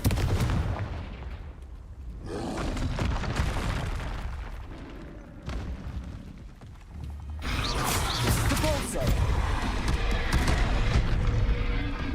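Confringo blasting spells burst repeatedly in Hogwarts Legacy's Forbidden Forest, loud booming impacts and crackling explosions separated by brief lulls, with mechanical creaks and battle noise around them.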